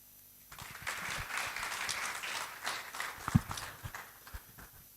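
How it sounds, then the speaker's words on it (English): Audience applause at a live-streamed nutrition event rises after a short quiet start and continues as a moderate, steady patter of many hands clapping at a distance, with a few sharper knocks. "Can we please give her one additional applaud?"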